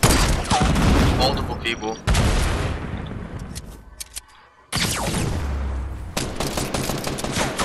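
Bursts of rapid gunfire from a video game shooting match crackle loudly in repeated volleys, with a brief quieter gap partway through, while several players talk over them.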